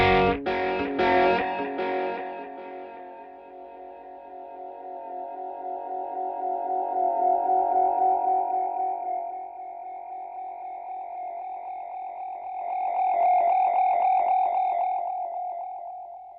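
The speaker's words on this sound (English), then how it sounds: "So that's just the overall level of your echo." Strymon Volante echo pedal processing a guitar: a few picked notes at the start, then repeating echoes that smear into a sustained, swelling wash, fading and rising again, with no talking.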